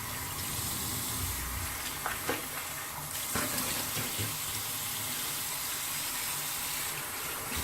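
Water runs steadily from a tap into a sink as someone rinses off after a shave with a Dovo straight razor and Erasmic shave stick, a continuous close splashing flow with brief louder bursts.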